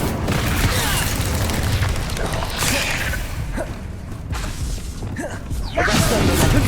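Spell-casting effects from the Hogwarts Legacy video game, including the fiery Incendio charm: a dense, continuous wash of magical bursts, whooshes and booms, loud and busy throughout, with a character's voice calling out spell names.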